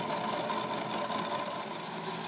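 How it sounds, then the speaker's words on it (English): A Schibeci VM1500 skid steer attachment cuts into the vertical face of a concrete slab with a dense, continuous grinding roar mixed with engine drone, loud and steady throughout. "The keying in process can quickly and effectively be done with the Schibeci VM1500"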